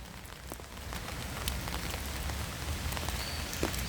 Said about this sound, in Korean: 비 맞는다. 점순아. 비 맞는다.